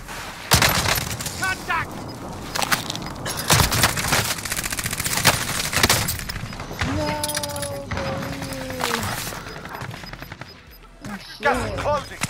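Call of Duty Warzone gunfire crackles in dense, overlapping bursts and scattered shots, loud and near, mixed with in-game alert tones and voice chatter.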